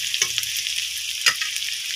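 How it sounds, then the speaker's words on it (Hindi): Onions sizzle in a hot pan with a constant bright hiss, broken by two sharp scrapes of a spoon stirring them. "प्याज को हम बीच बीच में चलाते रहेंगे"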